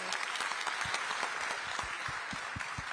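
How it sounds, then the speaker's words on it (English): An audience at an economic forum session applauds, a soft, even wash of many hands clapping, heard faintly from a distance. "I really think we should give these guys a round of applause"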